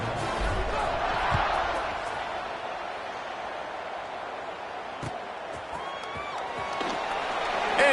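A packed college football stadium crowd roars after a touchdown drive, a steady, loud wash of cheering and noise that swells slightly toward the end, with a few sharp thumps and a voice beneath.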